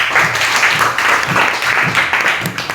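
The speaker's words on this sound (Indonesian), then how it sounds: "Berikan dulu tepuk tangan dulu" A classroom crowd claps in steady, rhythmic unison, a loud burst of applause sustained throughout.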